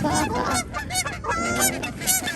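A flock of geese being fed bread honks and squawks close by, a dense, continuous chorus of overlapping calls with no pause.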